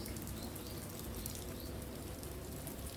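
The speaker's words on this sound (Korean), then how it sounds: "오늘은 촉촉하게 비가 오고 있습니다" Steady rain falls over a quiet mountain village, a dense, even hiss of drops spread across the whole clip with no breaks, close and fairly soft, with no voices.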